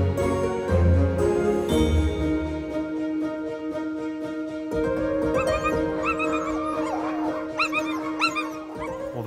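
Sled dogs in Lapland, about to be harnessed to a sledge, bark, yip and whimper in an excited, overlapping chorus, with high whines and short howls close by throughout.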